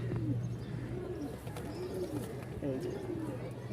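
Pigeons coo in a low, repeated rolling rhythm close by, several soft phrases over a steady hum, a pair of red pigeons on a home pigeon farm.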